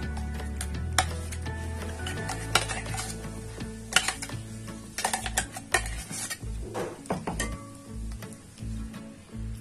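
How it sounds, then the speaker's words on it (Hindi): Ground dates are scooped from a grinder jar into a large bowl, with scraping spoon strokes and clinks of metal against the container, close and intermittent with no talking. "एक बड़ा सा बाउल में लेती हूँ और इसमें हम इसे निकाल लेंगे"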